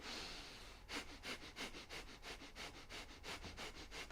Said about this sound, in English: then you do breath of fire, and it looks like this.